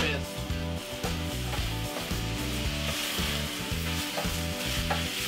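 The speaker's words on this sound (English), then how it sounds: "Give this a stir, bring everything together." Smoked paprika, red pepper flakes and tomato paste sizzle steadily in a pan for curry meatballs while being stirred. A continuous loud fry runs under rhythmic scraping strokes from the spoon.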